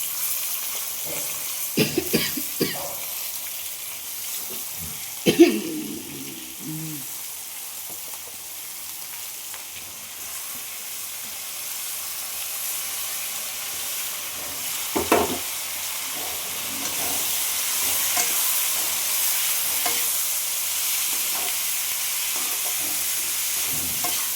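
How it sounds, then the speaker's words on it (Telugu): Pieces of ivy gourd (dondakaya) fry with turmeric in a pan, giving a steady hiss of sizzling oil, broken by a few brief scraping clinks of stirring near the start and again midway, with no one talking. "పసుపు వేసుకొని అవి వేగినాక దొండకాయలు ఇలా వేసుకోవాలి."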